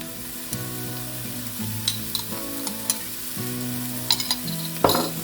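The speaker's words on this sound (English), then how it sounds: "Let's get all this stirred in together real quick. Don't want that garlic to scorch" Garlic and a teaspoon of cumin sizzle in a soup pot as a spoon stirs them, giving soft, steady frying hiss with scattered clicks and scrapes of the utensil, fairly quiet and with no talk.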